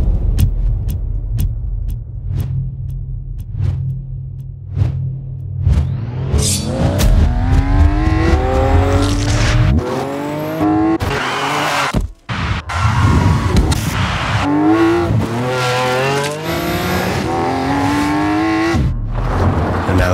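Lamborghini Aventador LP 750-4 Superveloce idling, then accelerating hard, its engine climbing through rising revs with gear changes, loud and close, ending in sustained high-rpm roar.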